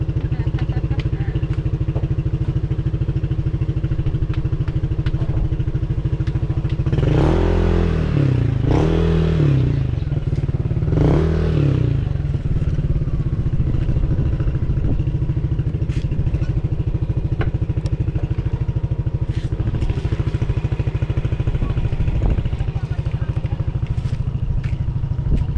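Scooters riding together on a year-end group ride, a steady loud engine drone throughout with a burst of clattering and rumbling noise midway, and people talking over it.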